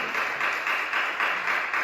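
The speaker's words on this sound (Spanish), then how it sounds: "¿Le pueden dar un aplauso a Jesús?" A church congregation applauds Jesus, with a steady wash of many hands clapping in gentle waves and no talk over it.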